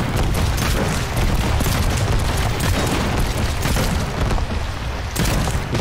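Video game explosions in Trailmakers roar as a dense, continuous barrage of booms and blasts, loud and close, with no speech.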